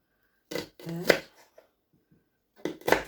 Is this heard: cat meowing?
no